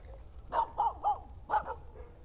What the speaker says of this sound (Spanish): unos perros que están a lo lejos ladrando